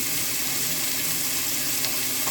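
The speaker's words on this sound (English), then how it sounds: "And can you hear the sizzle? I love it when I hear that sizzle." Onions sauté in a pan with a steady, close sizzle that crackles continuously throughout, with no voices.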